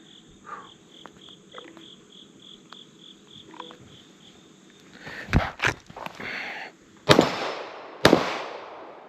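Two sharp gunshots crack out at a shooting range, aimed at steel and cardboard targets from concealment, with cricket chirping and a steady insect hum behind and scattered handling clicks before the shots.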